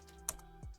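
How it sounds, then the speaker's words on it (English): Typing on a computer keyboard, two faint isolated keystrokes a fraction of a second apart over a quiet background hum. "type form or forms"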